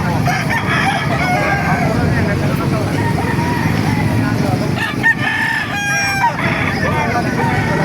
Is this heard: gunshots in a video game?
no